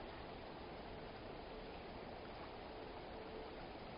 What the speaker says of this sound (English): the creek, the stream that's running past